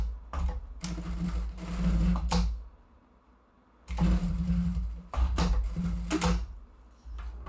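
Sewing machine stitching bias binding closed on a small fabric pouch, in several bursts of close mechanical whirring separated by short pauses, with no talking.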